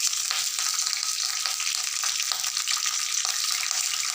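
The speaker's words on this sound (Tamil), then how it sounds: "அது இப்போ கடுகு போட்டு தாளிக்கணும்." Mustard seeds frying in hot oil for a Tamil drumstick masala tempering, a dense steady crackling sizzle with scattered sharp pops, close and continuous with no talking.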